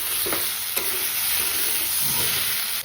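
A constant hiss of ground spices frying in a pan for a jackfruit curry, with a couple of soft stirring scrapes near the start and a gentler one later on.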